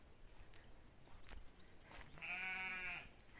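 A goat or sheep gives one loud, drawn-out bleat near the microphone. It rises out of outdoor background noise after several quieter scuffing sounds.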